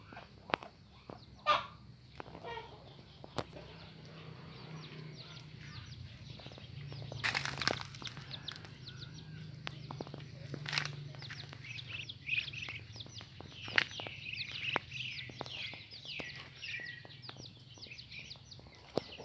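Chickens and small chicks in a rural home garden, giving scattered clucks and peeps at moderate distance over a steady low rumble of background noise, with no talking.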